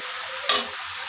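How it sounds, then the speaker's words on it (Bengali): Onions frying in a pan give a soft, steady hiss, broken midway by one brief louder sizzle as they are stirred or shifted, with no talk. "আমার পেঁয়াজটা লাল লাল করে ভাজা হয়ে গেছে।"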